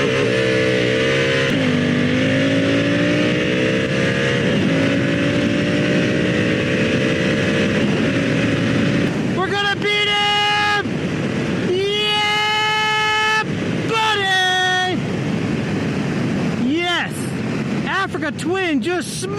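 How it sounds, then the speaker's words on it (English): Honda Africa Twin and KTM 990 Adventure Baja Edition motorcycles drag racing, loud engines revving hard and climbing through gear changes with rising pitch sweeps, close and continuous throughout. "we're going to drag race the Africa Twin against a 990 KTM"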